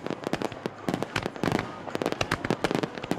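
Fireworks at a summer festival over the Nagara River in Gifu, Japan, a rapid irregular barrage of sharp loud bangs and crackles bursting one after another.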